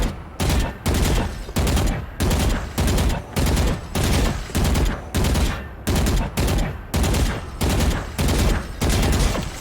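Rapid bursts of gunfire in the Valorant video game, about a dozen loud, evenly spaced short volleys fired one after another with brief gaps, no voices.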